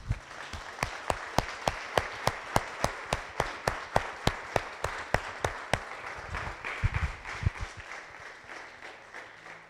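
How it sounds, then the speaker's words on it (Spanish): Steady rhythmic clapping from a church congregation, sharp even beats repeating for several seconds, fairly loud and close, with no voices over it. "¿Cuántos le dan un aplauso a Jesús?"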